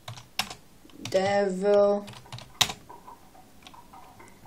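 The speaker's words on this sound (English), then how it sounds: "I might be slow typing now because just type in" Keys tapping on a keyboard while typing a search for a blue iPod Touch case, soft scattered clicks close by, broken up by a loud sustained musical tone and someone talking.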